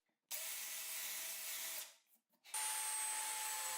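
Power drill boring straight holes through wood guided by a wooden jig, a steady loud whine for over a second, a brief drop as the bit pauses, then resuming with a steady pitched drone.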